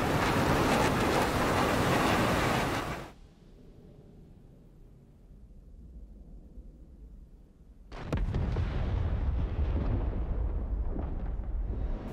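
JDAM bomb blast in the DCS World flight simulator, a sustained loud roaring rumble that drops to a low hum, then returns with another long, broad roar.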